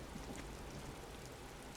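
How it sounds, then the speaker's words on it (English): Steady rain in the video game Disco Elysium, a soft, even hiss of falling drops, faint and continuous with no talk. "And it's still raining."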